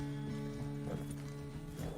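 Horse hooves clip-clopping in the video game Red Dead Redemption 2, a steady walking rhythm of hoofbeats under a continuous musical drone, with no talk.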